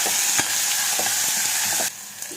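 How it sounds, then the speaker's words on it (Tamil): Sliced onions and green chillies sauté in hot oil for a bitter gourd kuzhambu, giving a bright continuous sizzle with a few sharp stirring knocks; the frying drops quieter near the end. "உளுந்து பொரிஞ்சதுக்கப்புறமா கட் பண்ணி வச்சிருக்க வெங்காயத்து கூடவே கட் பண்ணி வச்சிருக்க பச்சை மிளகாவும் சேர்த்துக்கலாம்."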